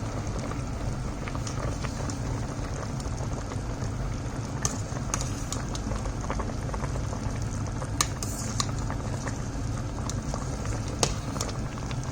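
A pot of water with eggs and mushrooms, seasoned for a braised chicken and egg dish, rolls at a steady boil, a continuous bubbling simmer dotted with occasional sharper pops.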